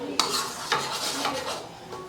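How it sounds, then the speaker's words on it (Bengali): Utensil scraping and stirring in a bowl as ingredients are mixed with oil for golap pitha dough, a few distinct knocks and scrapes over a soft continuous rustle, close and moderately loud. "এবারে আমি উপকরণগুলো মিশিয়ে নিচ্ছি।"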